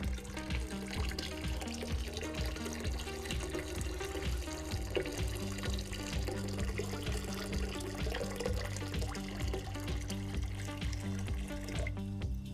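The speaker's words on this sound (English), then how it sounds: "I'm about to change that by pouring in a big old pot of steaming hot water" Steaming hot water pours steadily and continuously from a large pot into a tank for several seconds, a full sloshing rush with a low tonal hum running underneath.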